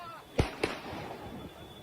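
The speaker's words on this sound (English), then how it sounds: "They sound like gunshots right there." Two sharp bangs sound like gunshots at a street protest against vaccine mandates, a second apart and moderately distant, over a low crowd murmur.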